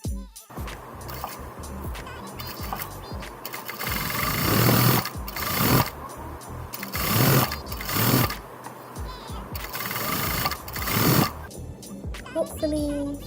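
A sewing machine stitches ribbon onto a dress hem in bursts of steady whirring, several runs of a few seconds each, separated by brief pauses and handling sounds.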